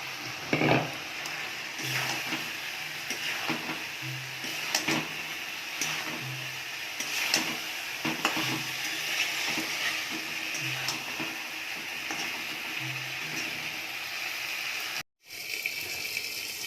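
Fried pointed gourd being stirred into a sizzling spice masala in a pan. A steady close hiss of frying runs throughout, with soft periodic scraping bursts from the stirring and no talking.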